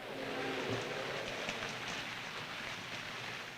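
Rain falls steadily in a film scene, a soft, continuous hiss of drops at low volume with no break and no voices over it.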